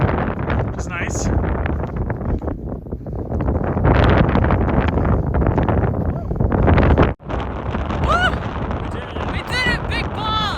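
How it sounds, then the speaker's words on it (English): On the open summit of Big Bald along the Appalachian Trail, wind buffets the microphone in heavy gusting rushes, with voices mixed in and a brief drop partway through. "Breeze feels nice."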